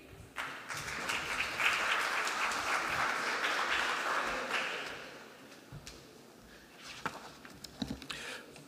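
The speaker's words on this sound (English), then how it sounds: "please give a warm round of applause to the Ambassador of France to Austria" An audience at a high-level UN conference applauds the Ambassador of France to Austria, a dense, even wash of clapping that swells, holds for several seconds, then thins out into a few scattered claps.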